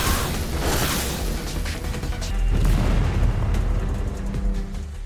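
A grenade explodes in a loud, rumbling blast that keeps roaring and crackling for several seconds without letting up.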